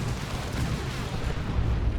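Missile launcher turret in the real-time strategy battle game Dawn of War II firing missiles, a dense rumbling wash of booms and blasts that rolls on steadily and loudly without a break.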